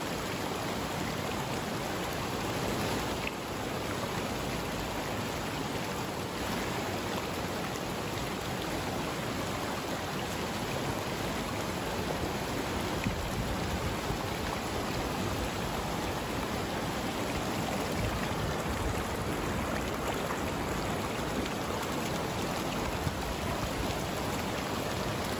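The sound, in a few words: river water flowing in Alaska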